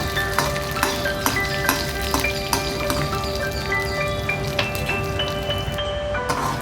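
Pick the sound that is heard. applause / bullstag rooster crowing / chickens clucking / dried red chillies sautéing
dried red chillies sautéing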